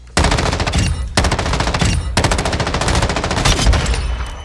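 Gunfire from an M13B assault rifle in the video game Warzone 2 rattles out in three sustained automatic bursts with brief gaps between them, loud and close.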